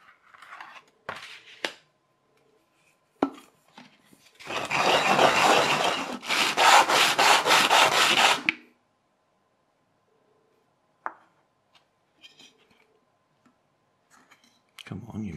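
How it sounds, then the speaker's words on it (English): Rough aluminium oxide sandpaper rasps against the aluminium of a beer can in two long, loud bursts of close scraping, framed by scattered clicks and handling noises. "Got some rougher sandpaper here."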